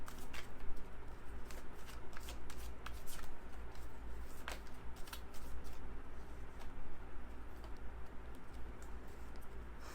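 Tarot cards being shuffled up close, a dense, continuous riffle of papery flicks and soft slaps with crisp ticks scattered throughout, steady for the whole stretch.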